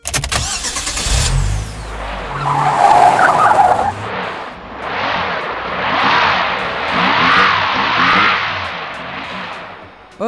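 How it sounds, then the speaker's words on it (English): Dump truck stuck and unable to climb, its wheels spinning with a squealing, whining skid that rises and falls in long surges over a droning engine, loud and close, no talking. "Oops, the dump truck is stuck here. It can't climb up."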